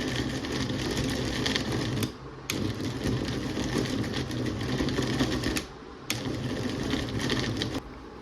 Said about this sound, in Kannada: ಅದಾದಮೇಲೆ ಸ್ವಲ್ಪನೇ ತೊಗೊಂಡು ಗ್ರೈಂಡ್ ಮಾಡ್ಕೋಬೇಕು